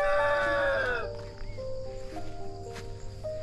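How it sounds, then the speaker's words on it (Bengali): A rooster near Munsong in the hills by Kalimpong, North Bengal, finishes a loud drawn-out crow that breaks off after about a second, then the insect hum carries on faintly. "মোরগ ডাকছে।"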